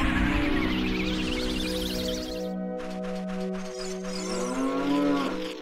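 A cow moos in Ocarina of Time, with a long drawn, tonal bovine call and a rising bellow near the end, set against steady game music.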